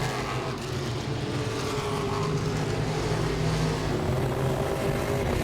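Modified race cars roar around the Langley Speedway oval, engines droning loud and steady as they run between turns three and four, a continuous dense motor noise with no break.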